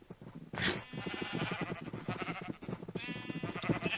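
Sheep in the Minecraft server Mineplex bleat repeatedly in quick, wavering calls, several overlapping bleats close and clear with no talk.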